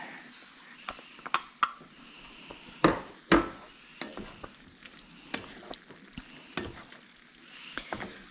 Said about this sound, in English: Let's throw our peas in there.